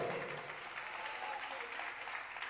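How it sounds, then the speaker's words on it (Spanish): A church congregation claps together in a dense, sustained burst of applause during a service, heard somewhat distant and soft, with a voice faintly present. "dele un aplauso al Señor con todo su corazón"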